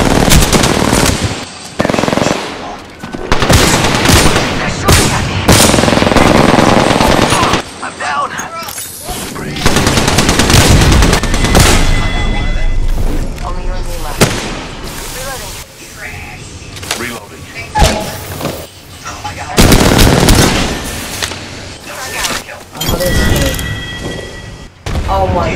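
Machine gun fire from the video game Apex Legends rattles in loud repeated bursts across a busy firefight, mixed with explosions and other game effects while players talk over it.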